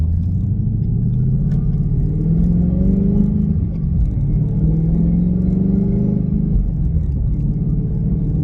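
A Ford Mustang GT engine rumbles deep and loud from inside the cabin, its tone sliding up and down through rev changes around a downshift, with no speech.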